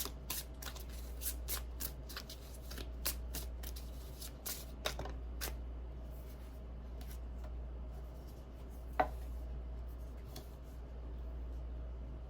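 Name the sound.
alien UFO card deck being handled and cards pulled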